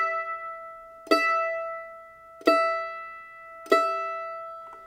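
A mandolin being tuned in a lesson on the fiddle tune Old Joe Clark, three separate plucked strums ringing out and decaying, close and clear with no talking.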